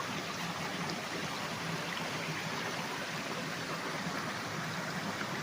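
A small creek in a farm in Liliw, Laguna, with a little waterfall, flows with a soft, steady rushing and trickling, continuous and alone, with no voices.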